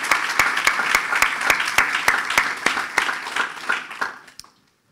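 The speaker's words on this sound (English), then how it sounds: "please join me with giving George another round of applause for his well-deserved promotion" An audience at a St. Pete, Florida economic forum applauds, a dense burst of clapping close by that thins out and stops after about four seconds.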